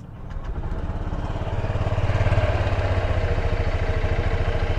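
A Honda Click 125i scooter engine starts and settles into a steady, rapid putter, close and continuous throughout.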